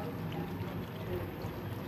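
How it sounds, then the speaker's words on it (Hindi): Water is poured into a cooking pot of meat and medium-sized potatoes for aloo gosht, a steady, close splashing pour lasting the whole moment. "तकरीबन डेढ़ से दो ग्लास के करीब पानी ऐड करूँगी मैं इसमें"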